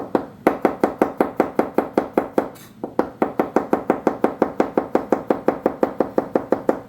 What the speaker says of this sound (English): now we're going to slice up our mushrooms